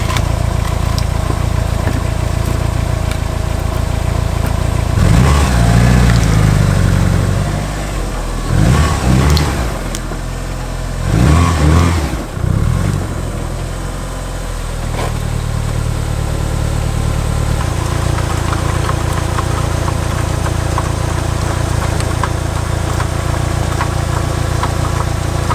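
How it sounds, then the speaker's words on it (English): A 1997 Mitsubishi Eclipse GSX engine idles loudly up close, then revs in several short bursts as the car backs up onto ramps, settling back to a steady idle. "now I'm gonna back up the vehicle, see if we can get it on a jack or some ramps"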